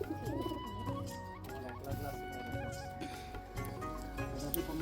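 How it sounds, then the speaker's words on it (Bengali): Pigeons coo steadily in a village setting near trees, a soft repeated cooing mixed with other tonal background sounds throughout. "এখানে কত পায়রা"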